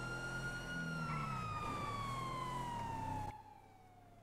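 Police sirens wail in a roleplay video game, a steady high electronic tone gliding slowly downward, loud and continuous before cutting off abruptly near the end.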